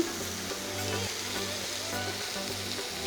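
Chicken strips fry in a hot pan as they are mixed, giving a steady close sizzle with faint stirring scrapes and a low hum beneath, no talk.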